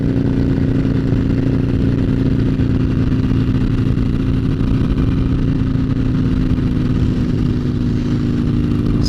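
A motorcycle engine runs steadily close by, a loud, constant droning hum with a low steady pitch and little change in level.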